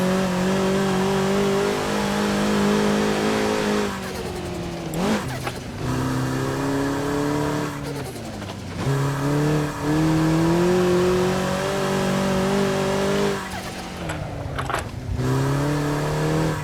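A rear-wheel-drive Toyota GR86 on a rally track, its engine droning loud and steady with repeated rev swells and drops at each gear change or lift, heard close for the whole stretch.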